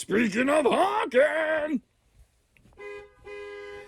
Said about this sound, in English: that's got one of those good let's go, I'm tired of waiting kind of horns